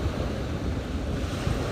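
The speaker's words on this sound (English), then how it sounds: "to just watch the water and hear the waves" Steady ocean surf rolling in at the shore, a continuous broad wash with wind buffeting the microphone, no voices, heard up close and fairly loud throughout.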